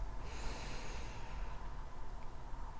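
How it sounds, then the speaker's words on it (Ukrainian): Someone takes a slow, deep breath in through the nose during a calm mindfulness exercise, a soft airy inhale over steady background hiss, close and fairly quiet. "Зроби ще один глибокий вдих через ніс"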